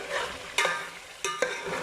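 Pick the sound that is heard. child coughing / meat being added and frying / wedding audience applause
meat being added and frying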